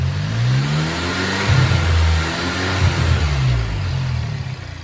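Close, loud engine of a VW MK7 GTI with an Integrated Engineering intake, idling between two sharp throttle blips that rise and fall back, with no voices over it.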